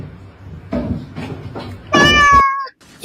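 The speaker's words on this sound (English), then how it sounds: "These cats are fucking nuts, Scott." Cats meow from a played video, heard close and loud as a long, clear, tonal meow preceded by a few shorter, duller sounds, with faint talk nearby.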